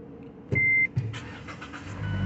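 Inside a car in a UPS setting, a door or power-window thump is followed by a steady electronic chime and then the engine turning over and idling low and close, with no talking.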